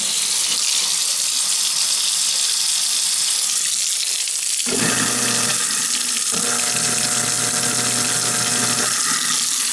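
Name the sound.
garbage disposal spinning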